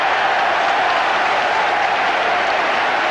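A packed football stadium applauds Glenn Hoddle's goal for Spurs in the 1985-86 season, a dense, even wash of clapping and crowd noise that stays loud and steady for a few seconds.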